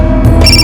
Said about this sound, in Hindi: अरे किसका फोन आ रहा है बार बार?